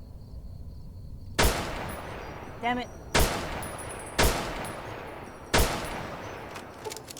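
Gunfire in Fallout: New Vegas: four heavy, separate shots with echoing tails at roughly one-second gaps, plus a short burst of rapid clicks in between, and a man mutters once under the shooting.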